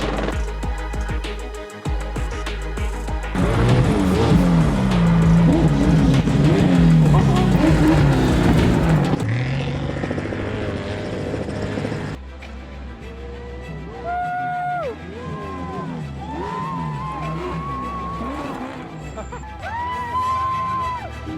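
1,000-horsepower trophy trucks roar past at the Baja 1000 rally in Mexico with revving engines, followed by a crowd of voices cheering and shouting over the fading motors.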